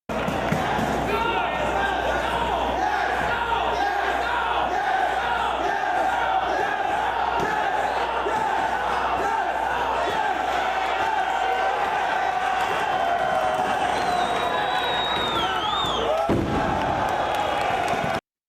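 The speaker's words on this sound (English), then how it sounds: "Listen to the crowd and what they are chanting here." A Ring of Honor wrestling crowd in 2004 chanting in unison, a loud, sustained mass of voices echoing through the arena for about sixteen seconds before cutting off abruptly.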